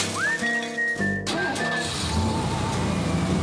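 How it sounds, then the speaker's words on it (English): A car engine runs, a rising tonal whine first and then a steady low rumble that carries on to the end, close by and with no voices. "You don't run your car inside."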